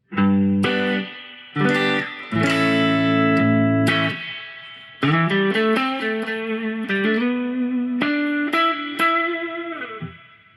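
Bass guitar notes and chords played through a spring reverb, with a washy, ringing tail trailing each phrase; loud and close, no talking.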